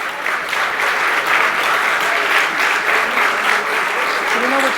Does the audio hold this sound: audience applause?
yes